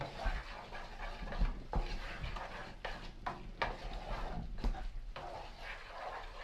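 Risotto is stirred in a pan, giving faint, soft scraping strokes over a low sizzle, close and quiet with no talking.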